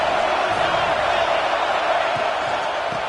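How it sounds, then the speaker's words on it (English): A football stadium crowd at a college game between USC and the Ducks roars continuously during a red-zone third down, a dense, loud, sustained wall of cheering. "this crowd is at fever pitch"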